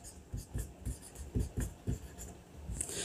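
Math being written on a board gives soft, close taps and short scratchy strokes in an irregular rhythm, with someone talking over them.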